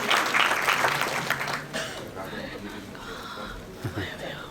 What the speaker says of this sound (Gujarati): આપણે સર્વે તેને તાળીઓના ગડગડાટ સાથે શુભેચ્છા પાઠવીશું.